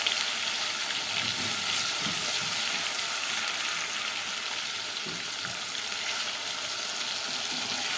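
A spoonful of garlic dropped into hot oil in a pan sizzles and fries loudly and steadily, with faint stirring scrapes underneath and no talking.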